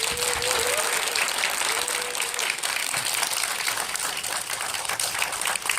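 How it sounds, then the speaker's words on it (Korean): Forum audience giving a big round of applause after a talk by a ship and ocean plant research institute doctor, sustained dense clapping filling the hall, with a brief tonal whistle or cheer early on. "큰 박수 한번 부탁드립니다"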